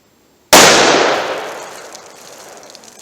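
A single .357 Magnum shot with a 158 grain bullet, fired outdoors at a body armor target: one sharp, loud crack at the start, then a long fading ring and echo with no talking.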